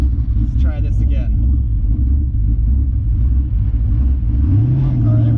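A twin-turbo daily driver car engine rumbles loudly and steadily close by, with a rising rev toward the end, while a person talks over it.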